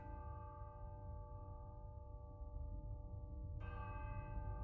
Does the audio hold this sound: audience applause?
no